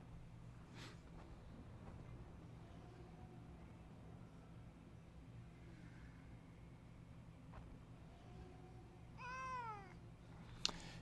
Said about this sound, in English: Yeah, kitty.